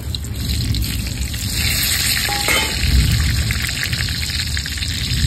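Whole cardamom, cinnamon, cloves and bay leaves sizzle steadily in hot mustard oil, a loud, close, continuous frying hiss with no talk.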